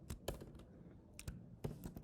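A few quiet keystrokes tap on a computer keyboard while code is entered, heard as short clusters of clicks with brief gaps.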